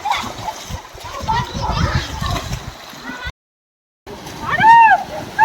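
Several children splash and slosh about while bathing together in a large tank of fresh water outdoors, with excited kids' voices over the splashing, a brief silent gap, then more lively splashing and chatter.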